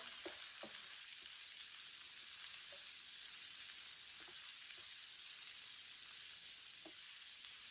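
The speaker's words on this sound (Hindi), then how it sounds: "अच्छी तरह मिक्स कर लेंगे दोनों चीज़ों को" Chopped cabbage and green chillies stirred in a hot pan, a steady faint sizzle with scattered soft scraping stir strokes throughout.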